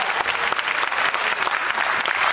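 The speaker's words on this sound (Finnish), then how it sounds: "Ja annetaan aplodit upeasta" An audience applauds a couple after a tango at a youth ten-dance open final, producing dense, steady clapping from a crowd throughout the short stretch with no voices on top.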